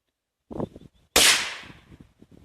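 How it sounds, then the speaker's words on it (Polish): A faint crackle and fizz, then one sharp loud bang from a small piccolo firecracker wrapped in aluminium foil and masking tape, set off on the ground, its noise trailing off into light crackling. "Tak wybucha pikolaczek."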